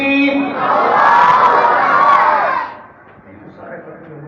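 A large crowd gathered at a mosque's annual program roars a chant in unison in response to a speaker, loud and sustained for about two seconds before fading into quieter murmuring.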